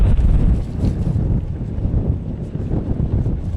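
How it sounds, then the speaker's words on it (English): Strong wind blows hard across an open desert in the UAE, a continuous loud buffeting roar with gusty rumbling on the microphone and no voices. "The wind is still strong"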